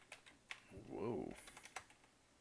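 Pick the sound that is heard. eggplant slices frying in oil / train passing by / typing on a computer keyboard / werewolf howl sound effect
typing on a computer keyboard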